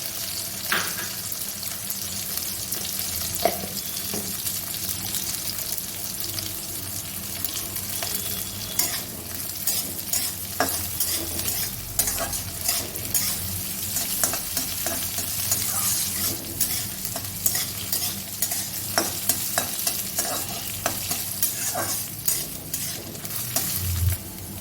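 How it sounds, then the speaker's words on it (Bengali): Garlic and green chillies fry in a pan while being stirred, a steady close sizzle broken by repeated scrapes and clinks of a utensil against the pan. "রসুন আর কাঁচা লঙ্কাটা ভাজা হচ্ছে"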